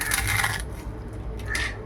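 Crispy green gram murukku breaks in two close crunchy snaps, a sharp crackle at the start and another shortly after, with light crumbling noise in between.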